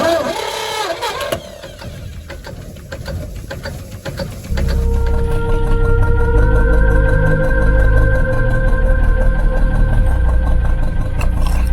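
A canal narrowboat's engine starts up partway through a quiet mooring at Shardlow with birds calling, then settles into a steady, loud, close diesel idle that continues to the end.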